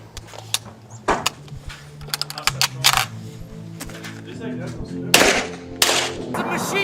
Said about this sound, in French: It's a machine gun! Machine gun!